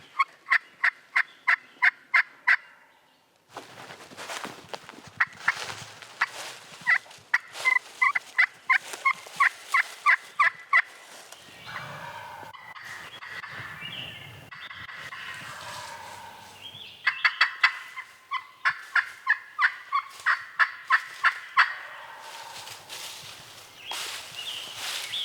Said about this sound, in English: once he flew down, he gobbled one time